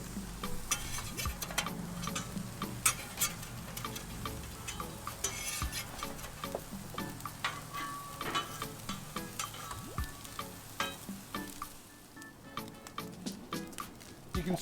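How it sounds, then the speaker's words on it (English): Carnitas pork and tater tots fry on a Blackstone griddle with a steady close sizzle, broken by repeated sharp scrapes and taps of a metal spatula turning the food. "So we'll just get this nice and crispy on the griddle while those tater tots cook."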